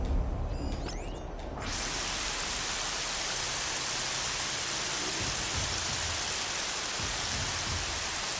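Steady, dense rain hisses loudly and evenly in the video game Horizon Zero Dawn, starting after a brief quieter moment with faint clicks and continuing unbroken as a close, full wash of sound.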